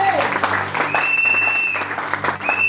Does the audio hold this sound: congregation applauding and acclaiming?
yes